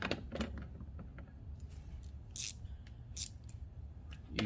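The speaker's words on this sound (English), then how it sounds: "Then you flip your ratchet to tightening mode" A ratchet tightens the mud flap screws on a Ford Edge, giving faint, quick clicking bursts spaced irregularly across a quiet background.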